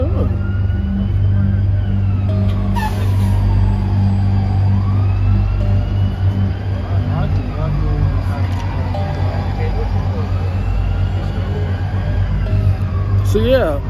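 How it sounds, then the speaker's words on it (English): Wailing emergency sirens sweep up and down over steady traffic rumble in Times Square, New York, loud and nearby, with a voice talking throughout. "cause I see so many sirens right there"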